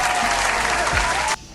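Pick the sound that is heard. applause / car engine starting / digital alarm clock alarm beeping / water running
applause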